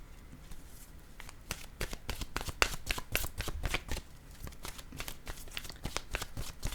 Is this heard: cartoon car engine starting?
no